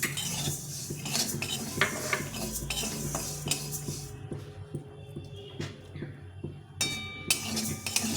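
Moong dal dry-roasting in a pan, with constant scraping and rattling of a metal spatula stirring the lentils, a faint sizzle beneath and occasional clinks against the pan, close and moderately quiet.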